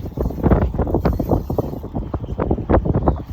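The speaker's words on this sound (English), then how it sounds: "It's a little windy," Gusty wind buffets the microphone on a fishing boat off Navarre, Florida, coming as loud, uneven low rumbling bursts, with no voices heard.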